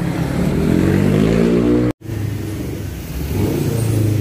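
A Yamaha Fino scooter engine with a bad knocking fault runs loud and close, a steady rough revving drone with a short cut in the middle and rising again after.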